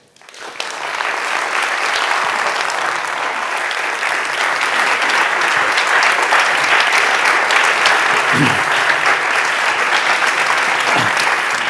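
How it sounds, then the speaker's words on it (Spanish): Audience in a theatre applauding to welcome speakers at a talks event, loud sustained clapping that swells in quickly and continues steadily to the end. "rebem amb un fort aplaudiment a Carlos Tanón, a Lorenzo Silva i a Rosa Badia"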